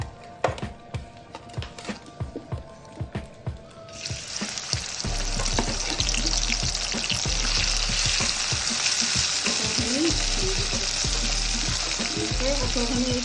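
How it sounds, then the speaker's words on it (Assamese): Jackfruit hits hot oil in a wok after a run of knocking and clattering, then a loud, steady sizzle of frying takes over and continues close up, with occasional stirring. "তেলখিনি গৰম হোৱাত মই কঁঠালখিনি দি দিম।"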